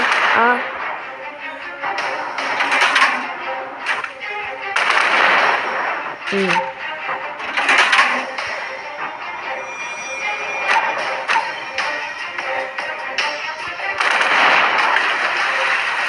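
Bursts of rapid game gunfire crackle throughout, mixed with chatter and other game sounds.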